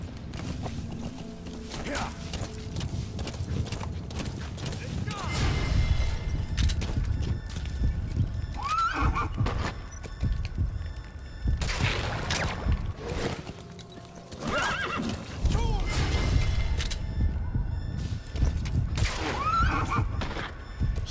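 Horse whinnies and clip-clopping hooves in Metal Gear Solid V: The Phantom Pain, several neighs rising over steady hoofbeats and busy low game rumble, loud and close throughout.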